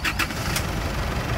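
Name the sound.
old Isuzu D-Max 2.5 litre engine starting with jump starter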